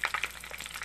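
Shrimp bagoong sautéing in hot oil in a pan, a close, soft sizzle and crackle with light popping bursts, steady and fairly quiet with no voices.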